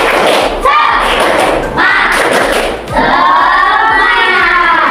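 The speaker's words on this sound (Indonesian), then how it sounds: "untuk menyenangkan suasana kita tepuk semangat dulu" Schoolchildren in an Indonesian classroom lesson perform a rhythmic spirit clap, bursts of quick, loud, close claps and thumps in a patterned beat, with voices chanting along between the clap groups.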